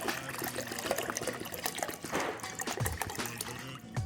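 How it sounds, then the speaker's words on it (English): Water pours and trickles into a mouthwash bottle during a home remedy recipe, a close, steady gurgling stream with bubbly splashes that shifts in tone as the bottle fills. "the water's going in"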